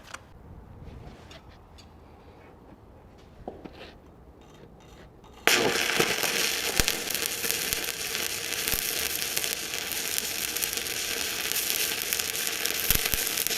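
Arc welding with a 7018 rod lays an overlay bead on flat plate. Faint ticks come first, then a sudden loud, steady crackling sizzle sets in and continues close up to the end without talk.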